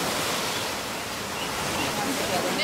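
Ocean surf from the 2004 tsunami at Ko Lanta, Thailand, a continuous broad roar of churning water close by, heavy and unbroken throughout.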